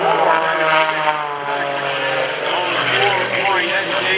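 Gary Ward's aerobatic propeller airplane droning steadily overhead through a four-point hesitation roll at the 2014 Greenwood Lake Airshow, a continuous engine roar with slight pitch shifts, mixed with a commentator's voice.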